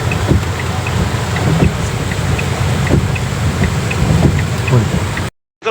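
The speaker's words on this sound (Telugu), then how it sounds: "బ్రిడ్జి పైనుంచి వాటర్ పొంగుతున్నాయి" Floodwater surging over a road bridge near Mulakalapalli on the Khammam highway in Mahabubabad forms a steady, loud, broadband roar of rushing water mixed with wind buffeting, continuous throughout before cutting out at the end.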